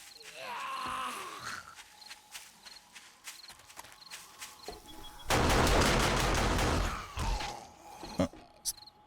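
Automatic turret firing in the video game 7 Days to Die, a dense burst of rapid gunfire lasting a few seconds in the middle, set among sparse clicks and light footsteps, with a voice talking around it.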